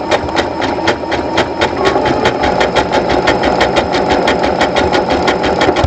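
A sewing machine stitching a blind hem with a slight zigzag, loud and close, with rapid regular needle strikes ticking over a continuous motor hum.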